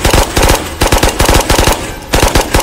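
A FAMAS in Ghosts of Tabor fires loud, close automatic bursts, rapid sharp shots in several quick strings separated by short pauses.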